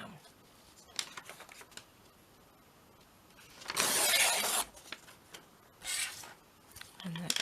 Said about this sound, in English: So I'm just going to rip this down.